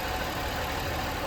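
A car engine idling in a workshop during oxygen-sensor and fuel-trim testing, a constant, dense mechanical drone that stays level and steady for the whole short stretch, with no voices over it.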